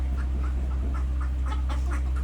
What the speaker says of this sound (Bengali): এই যে হাঁসগুলা, ছোটো ছোটো হাঁসগুলা বড় হয়ে গেছে মাশাআল্লাহ